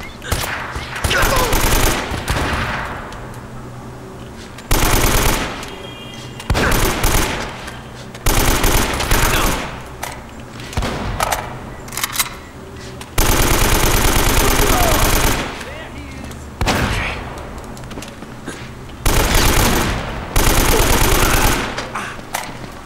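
Gunfire in Uncharted: Drake's Fortune comes as repeated loud bursts of rapid automatic shots, each a few seconds long, with quieter stretches between them and some speech mixed in.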